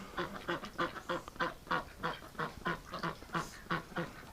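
A duck quacks repeatedly in a steady rhythm, about a dozen loud, nasal calls close by with short pauses between them.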